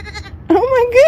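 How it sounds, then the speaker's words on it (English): Young goats bleat on a farm, a long wavering cry rising and falling after a brief softer bleat, close and fairly loud against low background murmur. "What do you think of the baby goats?"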